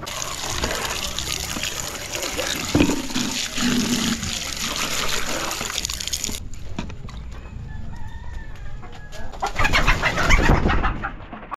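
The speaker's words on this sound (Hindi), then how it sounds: "उमर भाई हम लोग नई कबूतरी लेके आए हैं" Pigeons kept alongside chickens coo in a few soft, low calls, with splashing water and rustling mixed in, and a louder scuffle of wings or movement near the end.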